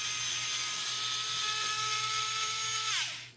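An electric driver removing bolts on a TRX4M crawler gives a continuous high whine that holds steady and then drops in pitch as it spins down at the end, loud and close.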